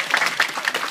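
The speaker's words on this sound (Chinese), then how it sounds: "掌声鼓励。" An audience at a primary school farewell gathering claps in a brief, dense burst of applause with no talk over it.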